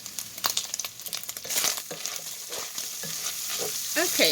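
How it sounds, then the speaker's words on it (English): Bacon sizzles and browns in a pan for corn chowder, a steady crackling fry with occasional scraping stirs and a louder burst of sizzle near the end. "So I am just going to get this bacon starting to brown up."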